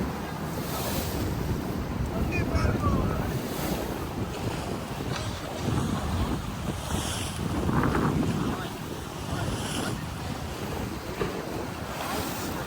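Wind-driven sea waves wash and surge against the shore near the White Tower in Thessaloniki, a steady roar with strong gusts buffeting the microphone throughout, no voices over it.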